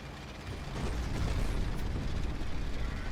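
Tank in the game Men of War rolling steadily, a dense mechanical rumble with clanking, ratcheting track and gear noise, close and loud throughout with no pauses.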